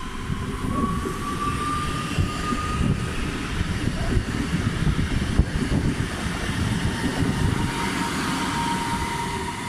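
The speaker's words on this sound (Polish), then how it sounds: "Odjeżdża pociąg Regio relacji Świnoujście pod Szczecin Główny." A Regio passenger train, ED78 unit on the Świnoujście to Szczecin Główny line, departs Goleniów station, a steady rumbling roll of wheels on track at moderate distance, continuous throughout without voices.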